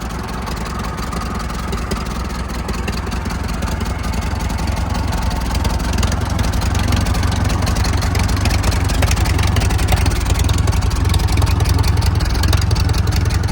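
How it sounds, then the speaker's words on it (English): A 1942 IH T9 Trackson tractor engine, once seized solid, runs steadily with a loud, low, rumbling idle that holds even and close throughout, with no talk over it. "But for a tractor that was stuck solid, it runs pretty good."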